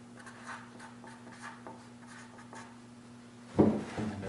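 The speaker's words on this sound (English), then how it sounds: "the first thing I'm going to do is write down" A pen or marker scratches across an interior panel for a Suzuki Samurai, a quiet rubbing that comes in short strokes before a louder bump or handling noise near the end, with no talk.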